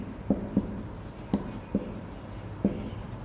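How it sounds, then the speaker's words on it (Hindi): Chalk or marker writing on a board during a Hindi literature class, five or six short scratchy strokes at uneven intervals, close and fairly quiet against low room noise. "देखिए लिखते हैं उदाहरण मैं लिख रहा हूं यहां पर"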